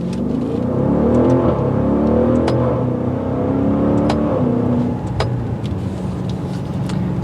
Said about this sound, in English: That exhaust note that you get is just insane. It really does play a nice throaty tune.